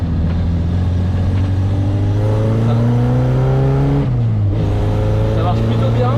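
A Suzuki Samurai's engine hums steadily while driving after a gearbox swap, with rising gear-whine harmonics that drop briefly as it shifts near the middle, then climb again; a voice talks over the continuous drone.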